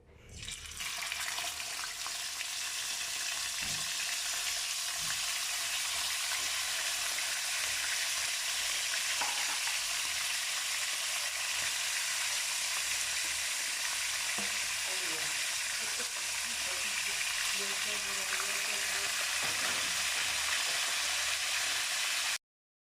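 Tilapia fries in hot oil with a dense, steady sizzle that holds loud and even for the full stretch, close by, with faint background clatter and no speech.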